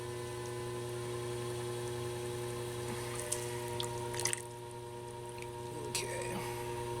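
Wet squelching and sloshing of water being sponged out of the bottom of a large clay pitcher on a spinning pottery wheel, soft and close over the steady hum of the wheel motor.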